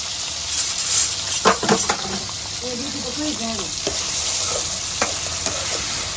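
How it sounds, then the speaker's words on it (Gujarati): Oil sizzling steadily as bitter gourd pieces fry in a pan, with occasional stirring scrapes and clinks throughout. "જ્યાં સુધી હલકા બ્રાઉન ના થાય ત્યાં સુધી એને ફ્રાય કરતું રહેવાનું છે"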